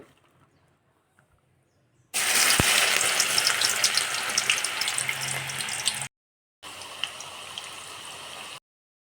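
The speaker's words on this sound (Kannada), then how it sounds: "ನೋಡ್ರಿ ಬಾಳೆಕಾಯಿ ಚಿಪ್ಸ್ ಈ ರೀತಿ ಕರ್ದಾವ" Banana chips deep-frying in hot oil over a medium flame, a loud, steady bubbling sizzle that runs for several seconds, breaks off briefly, then resumes just as strongly.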